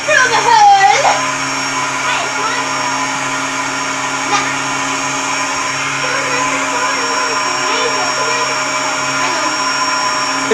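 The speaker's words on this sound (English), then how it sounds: "If you're so desperate to do some hoovering, Faith, go clean my house" A vacuum cleaner runs loudly and steadily, hoovering with a constant high whine and whoosh close by, a brief voice near the start.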